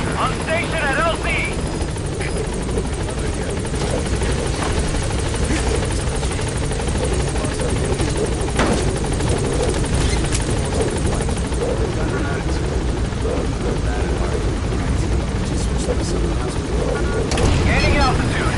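B-Quad helicopter hovering at the landing zone in Metal Gear Solid V: The Phantom Pain, a loud, dense, continuous rotor roar and whine that fills the scene close by, with speech mixed in.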